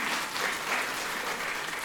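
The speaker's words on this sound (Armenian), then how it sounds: "Եկեք ծափահարենք մեր օրյա բոլոր աշուղներին" A crowd applauds ashugh folk singers at a school concert, steady continuous clapping throughout, full and even with no speech.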